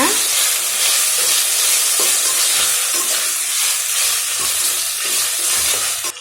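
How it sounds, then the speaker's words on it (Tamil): Loud, continuous sizzling as tomatoes sauté in a pan for vegetable biryani, with occasional stirring scrapes, a dense crackling hiss throughout. "தக்காளி ஆட் பண்ணி நல்லா வதக்கிக்கோங்க."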